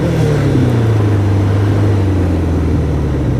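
A Kawasaki ZX11 motorcycle engine pulls hard in a steady, loud drone with its pitch slowly sliding as it rides on the road.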